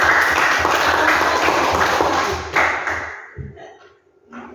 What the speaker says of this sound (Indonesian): Ya, tepuk tangan dulu buat dia.